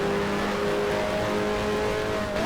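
A 1973 Formula 1 car in the F1 Challenge racing game at the Belgian round screams at high revs, its loud, sustained engine whine holding steady before a quick pitch shift as it overtakes a back marker.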